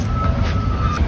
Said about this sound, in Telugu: Mini train is coming and going.